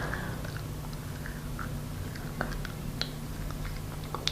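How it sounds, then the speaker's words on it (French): Chewing on an arak wood toothbrush stick, with soft irregular crunches and clicks close to the microphone over a steady low hum. "Alors il faut le mâcher"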